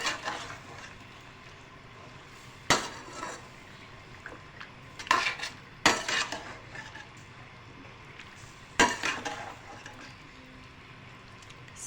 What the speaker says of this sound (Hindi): और चॉप किए हुए टमाटर और प्याज डाल के अब हम इसे मज़ीद मिक्स करेंगे।